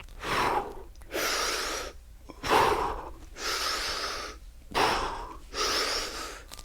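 Sharp, audible breaths drawn in and pushed out during a kettlebell workout, about six in a steady rhythm, close and fairly loud with no talking.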